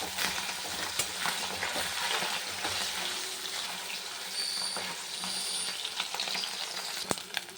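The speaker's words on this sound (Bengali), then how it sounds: "মাছ ভাজাটা হয়ে গেছে, উঠিয়ে নেই।" Fish frying in hot oil in a wok, a continuous bubbling crackle and sizzle with scattered sharp pops, fairly close and steady throughout, no talking over it.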